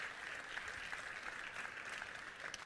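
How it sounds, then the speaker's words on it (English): Church visitors clap steadily in appreciation of a woman's testimony, a dense, even patter of many hands sustained throughout at a distance, with no voices over it. "the visitors continue to clap appreciatively"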